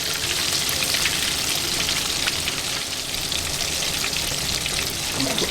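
Southern-style chicken pieces frying in hot oil, a loud, dense and continuous hiss of bubbling fat with a faint watery crackle, steady throughout at close range with no voices.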